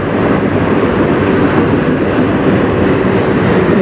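A CN freight train led by locomotives 3841 and 2926 rumbles past close by on the Strathroy Subdivision, a loud, steady roar of wheels on rails that holds without a break.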